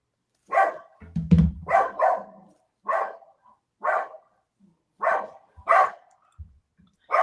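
A dog barks repeatedly indoors, about nine sharp, fairly close barks spaced roughly a second apart, with a deeper burst near the start and quiet gaps in between.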